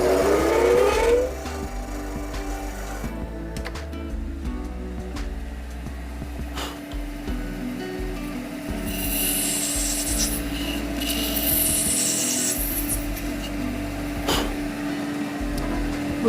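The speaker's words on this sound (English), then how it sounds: "I'm going to give that a little touch up on the grinder." Grinder touching up the handle of an epoxy resin shaving brush, a steady abrasive rasp with a low motor hum running continuously at moderate level, some brighter hissing scrapes partway through.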